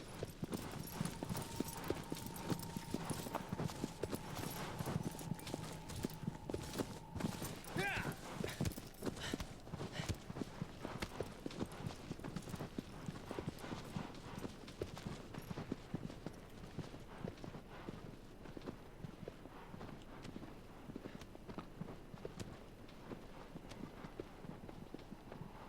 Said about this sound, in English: This poor horse's sides are gonna be sore from me kicking it over and over again.